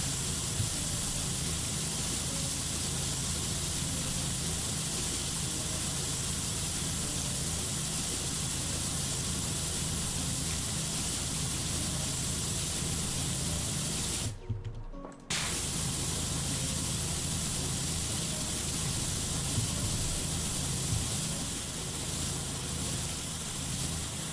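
Pressure washer spraying in the video game Powerwash Simulator 2, a loud, steady hissing blast of water that runs almost nonstop, cutting out for about a second midway before resuming.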